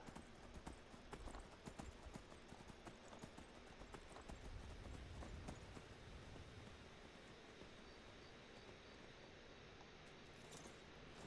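Horse hooves clip-clop steadily as a mount is ridden in the video game Skyrim, a continuous quick rhythmic patter of footfalls under ambient noise, lasting the whole stretch without voices.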